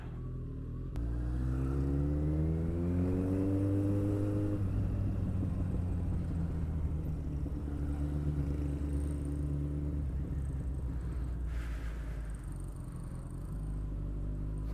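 Tricycle motorcycle taxi engine passing close by, a loud rumbling drone with rising revs that holds steady before fading, alone without talk.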